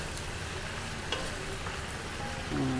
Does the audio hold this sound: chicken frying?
yes